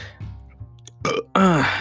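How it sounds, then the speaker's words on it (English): A loud, close burp bursts out, drawn out and croaky, after a few short guttural sounds from the same voice, with no words spoken. "I got that burp out of my system"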